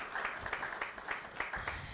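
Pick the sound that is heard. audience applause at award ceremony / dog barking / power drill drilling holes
audience applause at award ceremony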